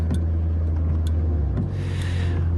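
A car drives along a snowy road in the Silent Hill video game, its engine a steady low rumble that runs throughout, with a few faint clicks and a soft swell of road noise near the end.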